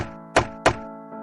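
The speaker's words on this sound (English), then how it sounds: "He knocked on the door." Two sharp knocks on a wooden door in a Little Red Riding Hood story, spaced about a quarter second apart over a steady musical drone, with a faint third tap near the end.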